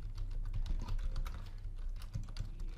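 Steady rapid keystrokes on a computer keyboard as customer details such as name and email are entered, close and continuous with no talking.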